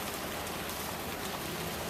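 Steady patter of rain falling with wet November snow, an even, close hiss of drops on surfaces with no voices.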